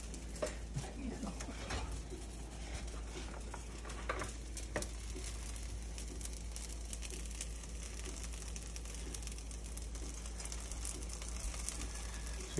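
Moose meat pancakes fry in a pan of oil with a constant soft sizzle and occasional light scraping and stirring, while a voice talks intermittently over the cooking.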